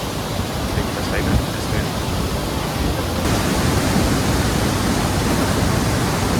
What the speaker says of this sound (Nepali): नदी छ यहाँ, तर देख्न सकिन्न अँध्यारो छ।